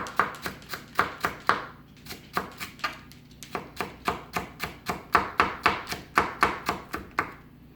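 A knife thinly slices a peeled shallot against a cutting board: around twenty crisp, close chopping strokes in a quick, regular rhythm with one brief pause.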